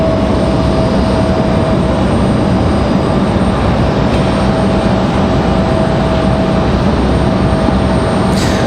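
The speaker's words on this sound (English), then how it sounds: "we've got another arrival here. Republic Airways at 4804 coming in from JFK, New York" A Republic Airways airliner arriving from JFK at Raleigh-Durham airport gives off a loud, steady engine roar with a constant tonal whine that holds for the whole stretch.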